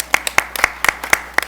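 A small group applauds an accounting department award with a brief spell of scattered, uneven clapping in a meeting room, close and moderately loud.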